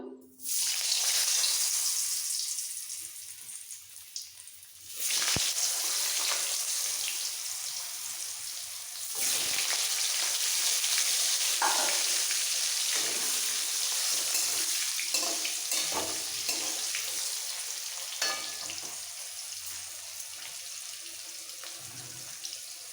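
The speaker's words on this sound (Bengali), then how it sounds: "এবার আলু আর ফুলকপিটা ভেজে নিতে হবে কড়াইতে" Loud, steady sizzling of potatoes and cauliflower frying in hot oil in a wok, with a few scrapes and clatters of stirring along the way.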